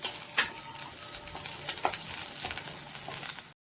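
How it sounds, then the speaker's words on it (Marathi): Green chillies and garlic cloves fry in a little oil in a pan, giving a steady bright sizzle with occasional stirring clicks, close and continuous, then cut off abruptly near the end. "त्यातच दहा पंधरा लसणाच्या पाकळ्या मी घालत आहे आणि दोन्ही परतून घेणार आहे"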